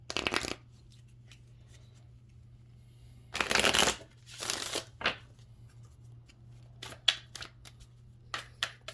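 Tarot cards being shuffled in several quick riffling bursts separated by pauses, close up, with a faint steady hum underneath.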